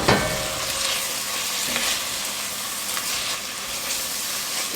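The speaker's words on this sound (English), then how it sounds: "Give that a stir" Beef stew with spices, Worcestershire sauce and tomato paste being stirred in a hot pot, a steady close sizzle with scraping spoon strokes across the pan, no voices.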